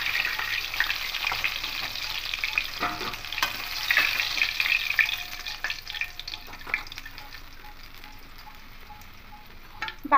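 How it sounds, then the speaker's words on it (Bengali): Fish pieces fry in hot oil in a pan, a steady sizzle with scattered pops and scraping stirs that gradually quiets toward the end. "বাকি মাছ দুটো এভাবেই ভেজে নেব।"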